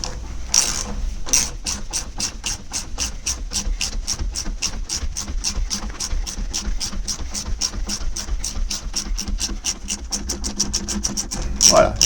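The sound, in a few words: loosening the lower shock absorber bolt on a Renault Clio 3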